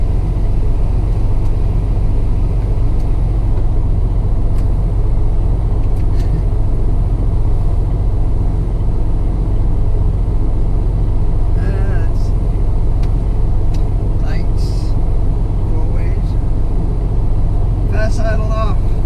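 A new truck's engine idles steadily before shutdown, giving a continuous low rumble close by with a few faint clicks and taps over it.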